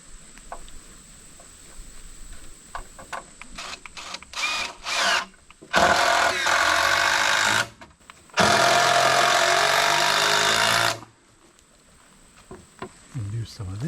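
A power drill drives big 4-inch screws into 2x6 lumber for a treehouse platform in the woods: a few short trigger taps, then two long, loud whirring runs of about three seconds each, with quieter handling noise before and after.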